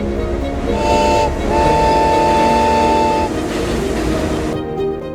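A high-speed train in eastern China rushes past at close range with a loud, steady roar and rail rumble, and a sustained horn tone sounds through most of the pass before the noise eases at the end.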